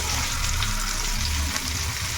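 Onions with green chillies drop into oil left from frying bata fish in a wok, giving a steady, close hiss and sizzle with no talk.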